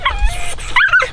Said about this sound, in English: That's a high drive puppy.